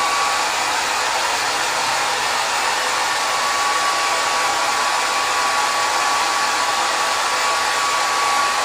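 A hair dryer blows steadily and loudly at close range for the whole stretch while wavy hair is brushed and dried during a haircut, its even airflow hiss unbroken and without talk.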